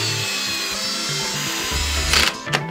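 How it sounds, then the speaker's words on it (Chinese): Power screwdriver driving screws to fix a CPU liquid cooler head to a PC motherboard, with short whirring bursts and pauses plus a few clicks and handling knocks near the end. "拿螺丝固定"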